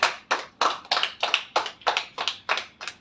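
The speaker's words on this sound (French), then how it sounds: "Applaudissez pour eux." A wedding congregation in church claps steadily, with rhythmic bursts of hand claps repeating about three times per second, fairly close and with no talking.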